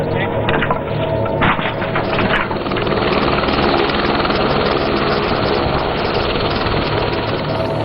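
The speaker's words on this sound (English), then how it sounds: "India, that brought in Mi-17 and Dhruv and Cheetah helicopters along with the Nepal army, could reach towns and villages devastated by the massive quake" Mi-17, Dhruv and Cheetah helicopters fly over quake-hit Nepal, a loud, continuous rotor and engine drone that holds steady throughout.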